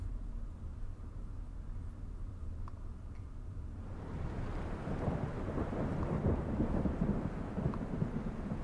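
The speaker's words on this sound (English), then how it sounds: "Thunder." A thunderstorm sound effect: steady rain hiss with a low rumble of thunder that swells to a heavier, louder roll halfway through and keeps rumbling to the end.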